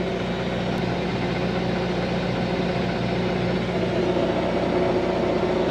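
A Coyote tractor engine runs steadily nearby, holding a constant low drone at an even level throughout, with no voices over it.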